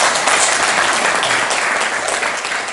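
Loud, dense applause from an audience at an autumn Buddhist studies paper presentation session, a continuous wash of clapping that carries on without a break and tapers only slightly toward the end.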